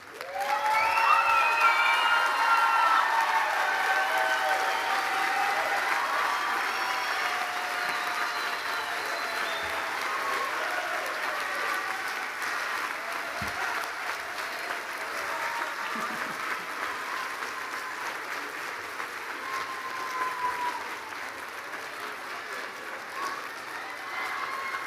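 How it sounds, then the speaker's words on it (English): A graduate commencement audience applauds graduates' families and friends, a dense, sustained round of clapping that starts loud and eases slightly over about 25 seconds, with scattered cheers mixed in. "give them a round of applause"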